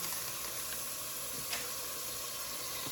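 Onion sizzles steadily in a pan still greasy with bacon and sausage fat, a close, constant frying hiss with a faint stir or scrape partway through and no talking.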